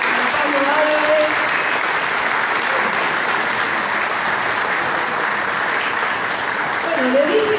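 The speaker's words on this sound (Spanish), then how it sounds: "Fuerte el aplauso a Pablo Álvarez." The audience at a ufology congress in Victoria, Entre Ríos, breaks into sustained, loud applause that continues evenly for several seconds, with a brief voice at the start and again near the end.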